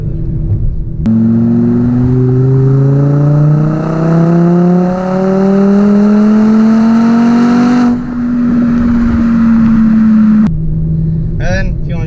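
A 2012 Mk6 Volkswagen Golf 2.5 engine pulls loudly from inside the car as it drives, the drone climbing steadily in pitch through one gear, a short break, then leveling off, with brief voice at the end.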